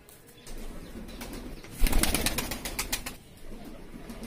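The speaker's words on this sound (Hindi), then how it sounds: "ये कबूतर कलमुहा में से निकला हुआ कबूतर है।" A male Kalmuha pigeon coos softly and shifts about, with a burst of fluttering, rustling movement in the middle before things settle again.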